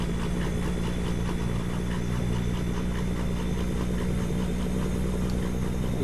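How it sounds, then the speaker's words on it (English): A truck's engine brake in American Truck Simulator, a loud continuous low rumbling drone with steady pulsing vibration, unbroken and close throughout. "I'll use the engine brake as well"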